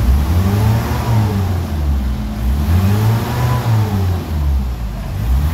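A Mitsubishi Adventure diesel engine revs in neutral, loud and close, its pitch rising and falling in repeated swells with a steady low clatter underneath.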